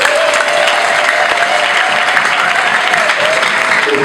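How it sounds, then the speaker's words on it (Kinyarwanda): An audience at a church preaching service claps steadily, a dense and loud wash of applause that holds without a break. A faint voice or tone sits beneath the clapping. "Mbega mwakomera Imana amashyi."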